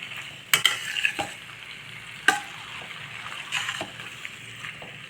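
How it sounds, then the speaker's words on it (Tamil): Pasta being stirred in a pan: scraping, clattering strokes with a few sharp knocks of the utensil, set over a soft sizzling bed, close and fairly loud. "இந்த பாஸ்தாவை இதில் சேர்த்துடலாம் நல்லா இப்போ கிளறி கொடுக்கலாம்"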